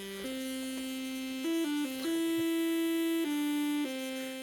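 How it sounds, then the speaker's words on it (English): Amazing Grace plays as a buzzy, noisy chain of simple square-wave tones from an AgonLight2 Z80 single-board computer's basic sound generator, sustained notes changing pitch one after another at steady loudness with no talk. "a very buzzy, noisy, Amazing Grace comes out of it"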